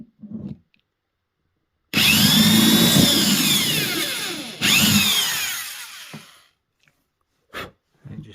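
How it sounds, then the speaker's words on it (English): A power drill whines into the wood of a Yamaha F310 acoustic guitar in two long bursts, the motor pitch dropping as it bites, with brief knocks and quiet gaps around them. "So now we have to drill the hole in here"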